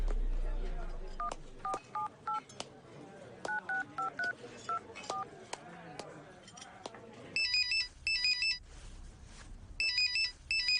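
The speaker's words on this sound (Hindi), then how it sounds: "हाँ एक मिनट, एक फोन करके आता हूँ।" Telephone keypad tones in a Hindi-dubbed South Indian action film scene: rapid DTMF beeps, first under a man's speech, then louder bursts of tones alone near the end.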